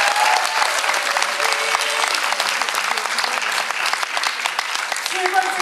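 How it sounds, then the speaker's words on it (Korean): Enthusiastic audience applause at the launch ceremony of a national parents' and civic education coalition, loud sustained clapping from a large crowd, with scattered voices mixed in. "다시 한번 큰 박수 부탁드리겠습니다."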